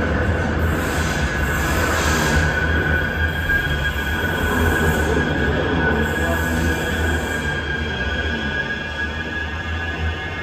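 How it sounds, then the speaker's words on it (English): A Manchester tram rolling along its rails, with a steady loud rumble, squealing wheels and a continuous metallic hiss that holds close and even from start to end with no talk. "Just gonna head to the tram, get the tram home."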